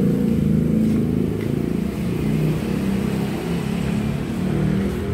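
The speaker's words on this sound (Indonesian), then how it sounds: "Sorry guys kalau ada suara motor keras." A loud motorcycle engine passing outdoors, a steady heavy rumble that fills the whole stretch with no pauses, rising slightly near the end.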